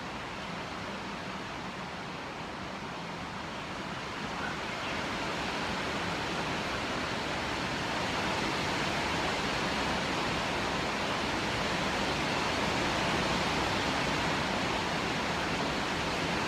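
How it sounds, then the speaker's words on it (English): Heavy rain pours steadily with a dense, even hiss that holds for the whole stretch and swells slightly louder toward the end. "That sound you hear is rain. It's really raining hard here."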